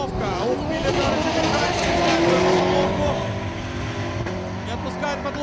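Drift race cars accelerate at the RTR Drift Attack event, their engines revving loudly and continuously beneath a commentator's excited talk.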